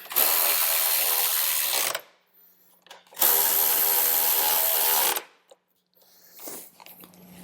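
A power tool tightens the rear bolts on a 2016 Harley-Davidson Road Glide CVO in two loud, close bursts of about two seconds each, separated by quiet, with a fainter short whir at the end.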